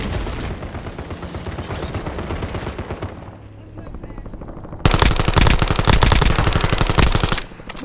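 MPC-25 submachine gun fire in the video game Warzone at Heaven's Hollow, rapid automatic bursts that grow louder and denser partway through, with game voice lines under the shooting.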